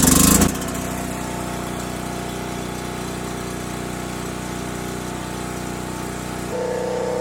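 A Harbor Freight Predator gasoline generator with a 212 engine runs steadily close by, a constant droning hum after a brief louder burst at the start, shifting slightly in tone near the end, with no talking.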